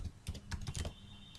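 Quick, soft keystrokes clatter on a computer keyboard as code is typed, a short run of close taps followed by a brief pause.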